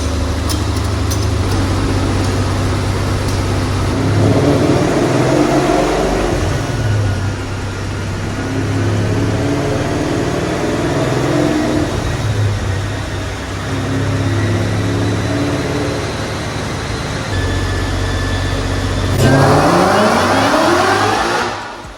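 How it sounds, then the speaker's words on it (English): A supercharged Ford Mustang with traction control set to advanced track off accelerates hard with wheel spin, a loud continuous engine roar heard from inside the car, rising in pitch near the end. "Yeah, it spun them pretty good, didn't it?"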